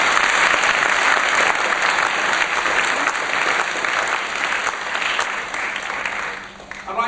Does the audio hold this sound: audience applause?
yes